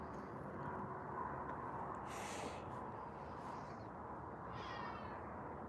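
A whiny cat gives a couple of faint, drawn-out meows over a steady low hum, quiet and somewhat distant.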